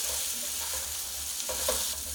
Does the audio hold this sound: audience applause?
no